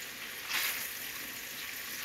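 Onions sizzle in a pan, a continuous soft frying hiss with a brief louder swell early on.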